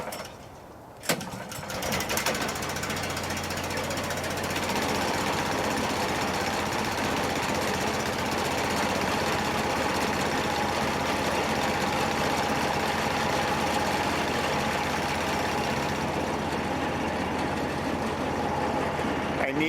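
WoodMaxx DC1260 wood chipper engine started cold, catching after a brief pull and then running at a steady, loud, droning idle with a rough mechanical hum.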